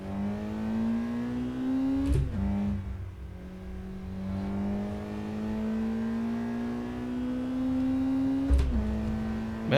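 Engine of a modded car, an AP1, lapping the Miyogi track in a sim racing game: a steady high whine holding pitch and slowly rising, with two brief sharp breaks where revs drop during shifts or lift-off, no talk.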